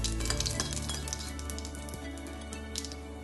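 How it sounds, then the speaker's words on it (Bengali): Whole cumin seeds and dried red chillies temper in hot oil left over from frying fish roe fritters, for a fish roe curry. The sizzle is steady, close and fairly loud, with a few light clinks and crackles and no talking. "ওই একই তেলে গোটা জিরে এবং শুকনো লঙ্কা ফোড়ন দিয়ে নেব"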